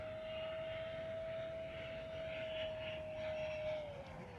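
A T-33 model jet aircraft on its maiden flight gives off a steady, faint whine with a smooth engine hum, distant and unchanging until the pitch dips slightly near the end, with no voices.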